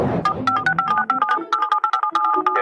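A bright electronic ringtone plays a quick, repeating melodic pattern of short tones, close and clear with no talking.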